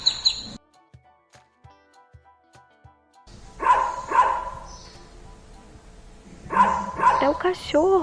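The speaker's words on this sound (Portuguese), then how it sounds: "É o cachorro." A dog barks in two short clusters of sharp, fairly close yips and barks, separated by quieter gaps with faint ticking in the background.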